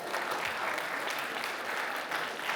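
A convention crowd at a voice-acting panel applauds steadily, a dense, even wash of clapping that holds at a strong level throughout.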